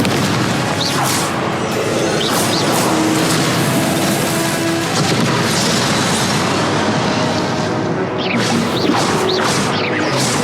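Repeated Confringo blasting spells exploding during Hogwarts Legacy combat on PS4, loud booms and crashing impacts piling into a continuous roar, with brief whooshing effects between hits.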